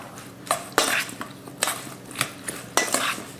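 Olive oil and garlic are stirred in a metal pan, with a spoon scraping and clinking against it in several sharp, close strokes and no talking.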